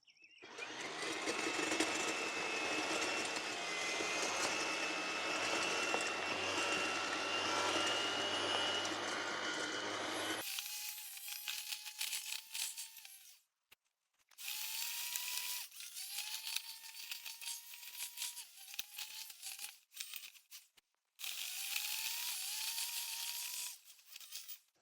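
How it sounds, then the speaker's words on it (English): An EGO 56V battery power head with a cultivator attachment tilling soil and weeds: a steady high electric whine with grinding for ten seconds, then repeated bursts of motor revving up and down with short pauses. "Let's try this Ego cultivator out."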